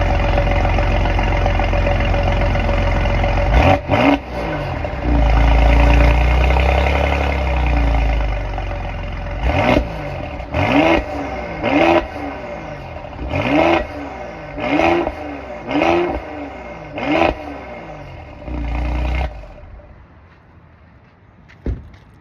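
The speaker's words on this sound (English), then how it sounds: "I just wanted to start up that vehicle, the GLE 43, and let you hear the exhaust note" A 2019 Mercedes-AMG GLE 43 Coupe starts up with a loud bark that settles into a rumbling idle, followed by a series of sharp, evenly spaced throttle blips, about seven revs, before the engine shuts off and the sound fades to quiet.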